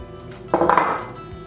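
Pecans poured into a pie crust, a short clustered rattle and clink of nuts landing in the pan, close and brief against an otherwise quiet room.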